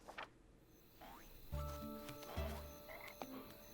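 Frogs croak in a marsh at night, two loud low bursts standing out over a thin chorus of calls and ticks, with no voices.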